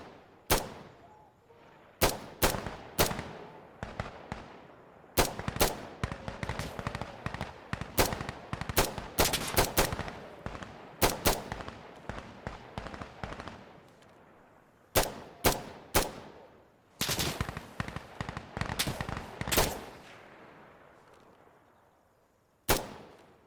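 Rifle fire in the Venom Company shooter game: loud, sharp single shots and quick bursts ring out in irregular clusters with short pauses between, each crack trailing into a brief echo.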